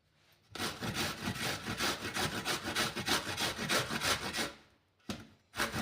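Knife cutting through fresh amla (Indian gooseberries), a steady run of rough, scraping strokes close by for several seconds, then a pause and a few more cuts.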